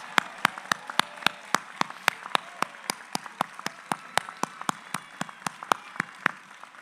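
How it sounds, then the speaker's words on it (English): Applause at a community college commencement for summa cum laude graduates, heard as a steady run of separate, sharp claps at an even rhythm, fairly close, with no talk over it. "Join me in honoring all of their academic achievements with a round of applause."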